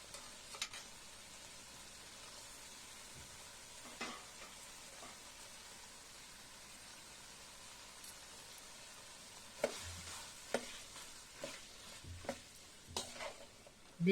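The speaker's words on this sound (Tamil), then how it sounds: "பீன்ஸ் கேரட் நல்லா வதங்கட்டும்." Quiet sizzling of beans and carrots sautéing in a pan with occasional scrapes and stirs, the clatter growing busier toward the end.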